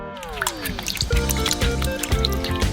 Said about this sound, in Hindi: इसलिए हम इन्हें सिंक में डालेंगे और पानी से भरेंगे।